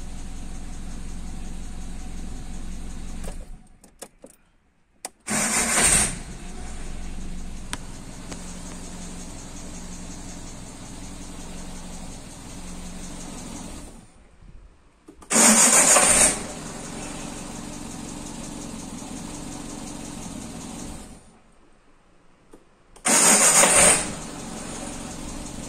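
A Renault 11 GTL engine runs at a steady, fairly quiet idle, with a few short louder bursts and brief near-silent gaps breaking the drone; nobody speaks over it.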